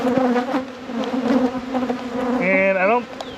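Honeybees from an opened hive buzz close to the microphone during a spring inspection, a dense, wavering drone with individual bees rising and falling in pitch as they fly past.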